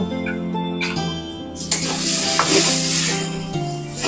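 Green pea paste dropped into hot oil with asafoetida in a pan, a sudden loud sizzle and hiss followed by stirring scrapes, close and continuous.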